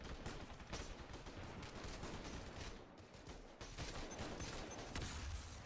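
Gunfire in the Ravenfield video game, rapid dense bursts of shots mixed with heavier booms, continuous and loud across the whole stretch, with no one speaking.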